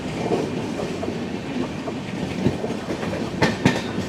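Gandhidham - Tirunelveli Humsafar Express running on rails, a steady loud rumble with rhythmic clickety-clack of wheels over rail joints and a couple of sharper knocks near the end.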